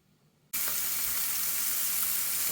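Meats for chili hit a hot pan after a brief quiet moment, bursting into a loud, steady, close-up sizzle that holds evenly to the end.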